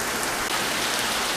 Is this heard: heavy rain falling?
yes